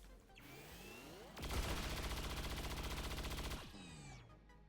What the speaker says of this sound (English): I think we're just gonna shoot this guy.